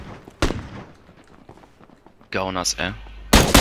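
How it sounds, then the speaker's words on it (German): Gunfire in the video game PUBG, sharp loud cracks at the start and end with a voice talking in between. "Oh, Schüsse. Hier wird geschossen."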